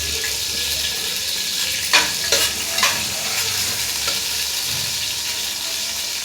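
Whole spices, garam masala and two green chilies fry in oil for an angel fish biryani, a constant close hiss broken by a few sharp clinks and scrapes of stirring, with no voices.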